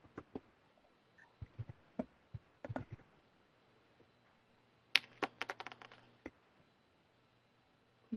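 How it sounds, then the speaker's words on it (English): Sparse, quiet keystrokes on a computer keyboard, tapped in short irregular bursts with pauses, including a brisker run of clicks near the middle, with no talking. "I started typing"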